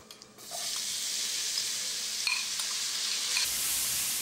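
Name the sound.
onions frying in pan for vegetable korma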